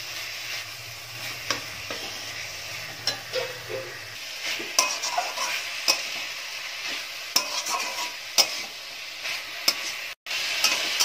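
Chickpea greens (cholar shak) cooked with eggplant sizzle softly in a pan while a spatula stirs and scrapes, giving repeated clinks and scraping strokes over a faint steady fry.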